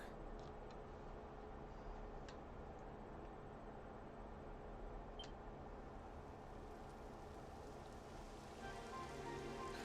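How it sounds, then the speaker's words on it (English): Steady, soft rainfall in Dragon Quest XI: Echoes of an Elusive Age hisses continuously, an even patter with a few faint clicks, and no voices. "Typical. It would have to go and start raining, wouldn't it?"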